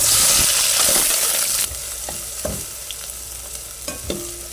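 Onion and garlic sizzle and fry in a pan for chop suey, a loud hissing fry that drops in level partway through, with occasional stirring clinks and taps over the steady sizzle.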